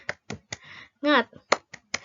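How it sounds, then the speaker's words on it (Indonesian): Schoolchildren in a fourth-grade class perform a rhythmic spirit clap, sharp claps falling in a steady pattern with a brief chanted voice between them. "Yuk kita tepuk semangat dulu yuk, supaya kita belajarnya lebih semangat."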